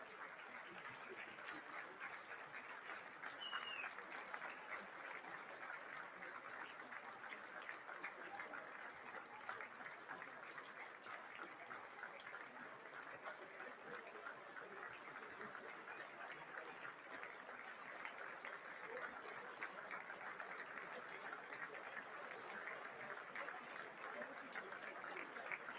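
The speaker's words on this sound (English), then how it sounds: "while they're clapping and patting each other on the back" Distant applause from a crowd at a political certification session, a faint, steady wash of many hands clapping that holds evenly for nearly half a minute.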